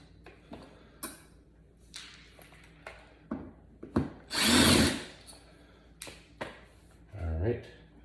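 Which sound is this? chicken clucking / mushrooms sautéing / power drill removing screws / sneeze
power drill removing screws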